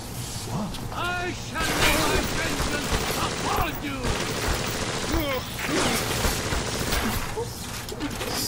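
Gunfire in Bioshock rattles in dense close bursts mixed with mechanical clanks and chirping game effects, loud and continuous across the scene.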